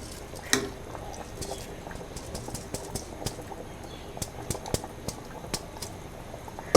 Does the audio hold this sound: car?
no